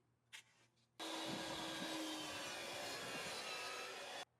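A power saw cutting dados into wood for shelf pieces, starting abruptly after a brief knock and running as one loud, sustained, close whine and grind for about three seconds before stopping sharply.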